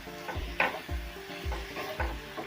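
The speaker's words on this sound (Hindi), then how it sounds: "इसे अच्छे से मिक्स कर लेते हैं इसी के साथ में।" Egg roll filling stirred with soy sauce in a hot pan, a spatula scraping in a steady rhythm of about four strokes under a light sizzle, close and clear.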